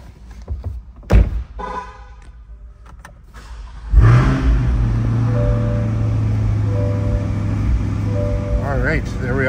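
A 2022 Chevrolet Corvette C8 Convertible 2LT Z51 fires up: a few door and cabin thunks, then the engine cranks and catches with a loud bark before settling into a steady idle as someone talks.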